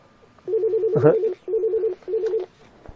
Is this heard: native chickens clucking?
no